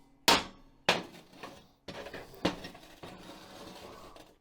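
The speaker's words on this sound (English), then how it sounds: "You just grab a hammer." A hammer taps guillotine tool parts flush on a steel welding table: five sharp metallic strikes at irregular intervals, each ringing briefly, close and fairly loud with no talk.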